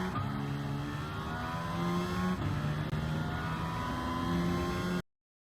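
A race car engine in Gran Turismo 7 revs hard in low gear, then short-shifts up into second with a brief dip and a fresh climb in pitch, droning loud and close before cutting off abruptly.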